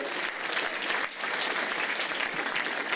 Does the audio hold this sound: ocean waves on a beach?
no